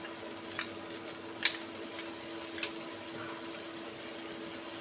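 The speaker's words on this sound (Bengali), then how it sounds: "মশলাটা খুব ভালো করে কষিয়ে নেব" A ground cumin paste with turmeric, Kashmiri chili powder and salt fries in oil in a pan with a faint, continuous sizzle and occasional light clinks from stirring.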